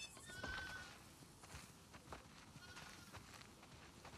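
Sheep bleating in The Last of Us Part II video game, a short bleat near the start over a busy, low ambient game soundscape of shuffling movement, fairly faint overall.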